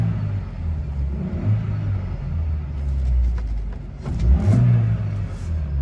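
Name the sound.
Suzuki X90 small engine revving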